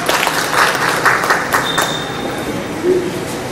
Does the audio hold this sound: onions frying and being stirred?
no